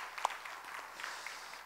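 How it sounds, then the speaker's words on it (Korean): A church congregation applauding during a Sunday worship service, a faint, distant, steady patter of many hands clapping that continues evenly without talk. "우리 축복의 박수 한번 하겠습니다"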